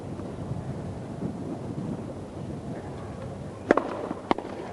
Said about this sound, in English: the wind has been gusting to unbelievable strength